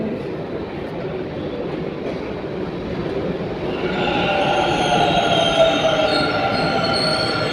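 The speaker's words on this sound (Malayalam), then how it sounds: "നമ്മുടെ ട്രെയിൻ എത്തിക്കഴിഞ്ഞു." A train rolls in close by at a busy station in Bangalore, its wheels screeching steadily against the rails as it slows, with a rumbling undertone throughout.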